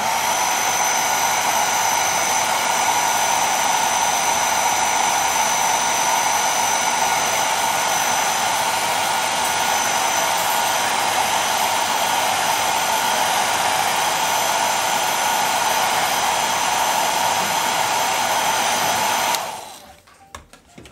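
A hair dryer blows steadily on a watercolor painting to dry it. The close, continuous whoosh holds for about nineteen seconds, then cuts off abruptly.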